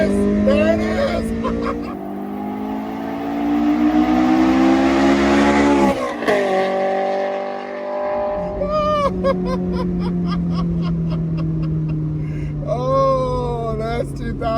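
A 2007 Honda S2000 engine revs hard under acceleration from about 4,000 RPM, its loud steady drone rising in pitch and then climbing again after a brief dip, with someone talking over it.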